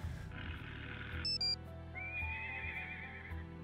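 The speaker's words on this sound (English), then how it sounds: "Okay, horse." A horse in a Nancy Drew video game gives a loud, close whinny, followed by a rising, wavering neigh, with hoof clip-clops and game background sounds beneath.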